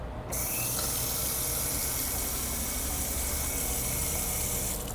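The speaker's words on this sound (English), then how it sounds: "You should have instant water pressure coming through." Water runs steadily from a faucet at a kitchen wash, rinse and sanitize station, a continuous close rushing hiss that starts abruptly and holds at even strength with no talking.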